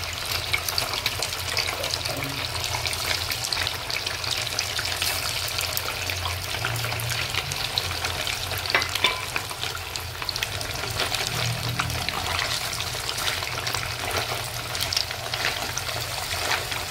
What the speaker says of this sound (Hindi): इसको हम डीप फ्राई कर लेंगे।